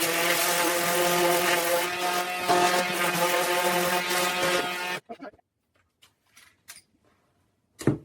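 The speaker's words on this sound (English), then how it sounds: "I went and I got my palm sander just to make it a little bit nicer" Palm sander sanding a drilled wooden square foot garden template, a steady close buzzing hum for about five seconds, then stopping, leaving faint scattered knocks and handling noises.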